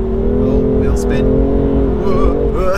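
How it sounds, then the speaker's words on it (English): A BMW M2 engine revs hard with wheel spin on a damp, greasy road, a steady loud droning exhaust note that climbs and wavers in pitch as the tires slip, heard from inside the car. "Oh, wheel spin."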